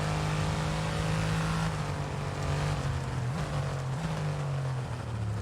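A loud Mercedes-AMG engine in the racing game F1 22 roars steadily with a humming drone, its pitch dipping and rising briefly as it downshifts.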